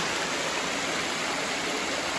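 A waterfall gives off a constant, even hiss of falling water, steady and unbroken at moderate level, with no voices.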